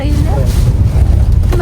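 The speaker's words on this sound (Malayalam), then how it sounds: "കാറ്റുണ്ട് കേട്ടാ" Strong wind buffets loudly and continuously outdoors in rainy weather, with brief voices over the roar.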